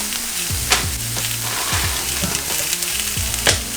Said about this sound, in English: while that is sauteing